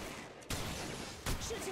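Gunfire in the video game Apex Legends Mobile: two sharp, close shots about three quarters of a second apart, set over a steady wash of in-game background noise.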